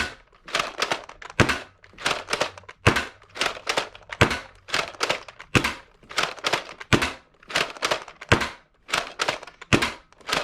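A Dart Zone Max Tomcat dart blaster fires in quick, rhythmic bursts of sharp mechanical thunks and snaps, about two dozen shots repeated steadily at close range.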